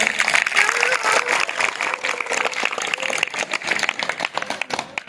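Sustained, dense clapping from an audience at a school ceremony for top-scoring 10th and 12th class students, steady and fairly loud throughout with a voice rising briefly above it.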